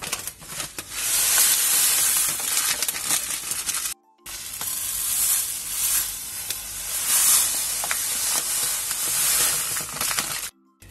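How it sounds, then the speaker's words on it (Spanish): Coarse rock salt poured and pressed by hand over a piece of ham for home-cured serrano, a steady crunchy hiss that runs through most of the clip with two brief silent gaps. "lo que vamos a hacer ahora es cubrirlo completamente con sal gruesa"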